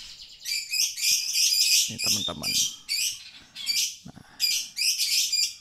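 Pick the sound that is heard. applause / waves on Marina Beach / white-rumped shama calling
white-rumped shama calling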